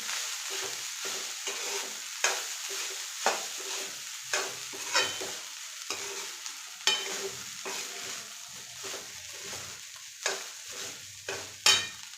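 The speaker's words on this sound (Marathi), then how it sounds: "व्यवस्थित परतून घ्यायचं आहे" Spices for a lemon rice tempering sauté in a pan with a soft, continuous sizzle, punctuated by repeated sharp scrapes of a spoon stirring against the metal, with no talking.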